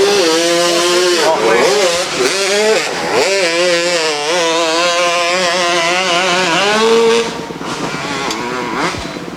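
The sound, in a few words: motorcycle climbing a hill at a hillclimb race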